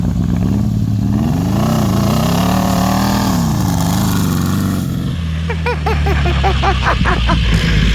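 A 1969 hot rod Baja Bug engine runs loud and close, its steady idle rising and falling a little. The engine is running rich, with raw fuel coming out of the tailpipe. Speech comes in over the engine toward the end.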